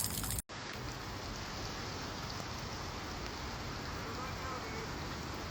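Steady heavy rain pours down in the middle of the night during severe flooding in Washington's Skagit River Basin, a dense continuous hiss after a brief dropout at the start, with faint voice-like murmur underneath.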